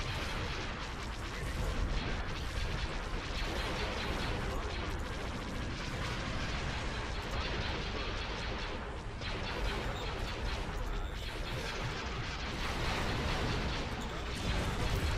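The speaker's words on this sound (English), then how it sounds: "Oh, there goes our assault frigate." A space battle in the Star Wars game Empire at War, with a Rebel assault frigate being destroyed, roars as a dense, continuous barrage of weapons fire and explosions, loud and unbroken throughout with no voices.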